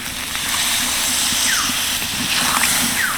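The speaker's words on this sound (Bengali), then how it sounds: "এবার আমি এর মধ্যে দিয়ে দেবো জল" Water poured into a pan of potato curry while the potatoes are cooking, a steady broad gushing pour running for the whole moment, fairly loud and close with no talking.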